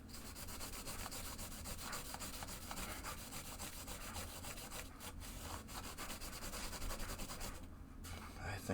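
A green scrub pad rubs steadily across the playfield of a 1972 Williams Superstar pinball machine, a continuous close, even scrubbing hiss with no pauses or talk.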